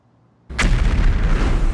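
Focke-Wulf 190 German fighters firing 20mm cannons during a dive on a bomber formation; silence, then a sudden heavy burst of rapid loud cannon fire that continues as a dense, booming roar.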